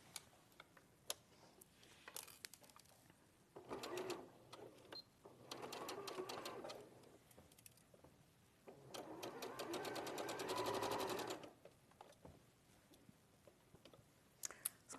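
A sewing machine stitches fabric together in bursts, with rapid mechanical ticking that runs for a few seconds at a time. The pauses between bursts are quiet, and faint clicks fall around the edges.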